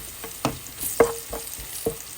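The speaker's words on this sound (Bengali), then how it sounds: "পেঁয়াজটাকে যে লাল লাল করে ভাজা হয়ে গেছে অলরেডি" Chopped onions fry with cardamom, cinnamon and bay leaf in a pan, several soft scraping stirs landing at irregular intervals over a low steady sizzle, close by and with no voices.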